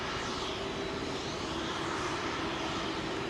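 Airliner taking off from Heathrow runway 27L, a steady broadband jet roar with a low tonal hum, loud and continuous throughout with no talk.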